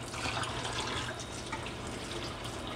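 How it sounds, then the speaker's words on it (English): E6 film developing pre-wash chemical pours steadily into a drain, a soft continuous splashing and gurgling that stays quiet and close from start to finish. "let's go ahead and pour out our pre-wash"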